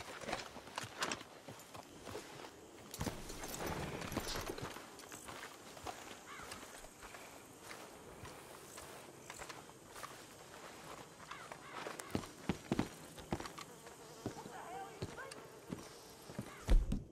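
Horse hooves walking in a video game, a steady clip-clop of several horses over uneven ground, moderately close and continuous, with some faint background noise and occasional louder knocks.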